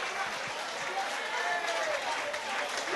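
Crowd applauding after an MMA fight between Lerone Murphy and James McErlean, a steady wash of clapping and cheering throughout, with a commentator talking over it.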